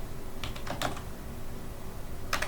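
Code is typed on a computer keyboard in short bursts: a quick cluster of clicky keystrokes, a pause, then a couple more presses, close and fairly quiet.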